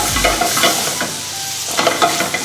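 Butter sizzles steadily in a pan on medium-high heat for a brown butter sauce served with catfish pecandine, a loud close crackle with a few bubbling pops and the scrape of stirring, no voices.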